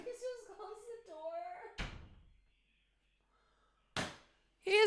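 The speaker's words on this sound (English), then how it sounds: "Could you please just close the door?" A door shuts with a solid thunk, followed by a second knock a couple of seconds later, close by indoors; a voice talks just before and another voice starts right after.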